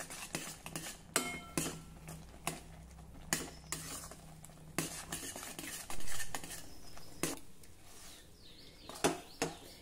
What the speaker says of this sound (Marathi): हळूहळू करून हे बेसन घाला आणि अगदी पटापट या प्रकारे ढवळून घ्या।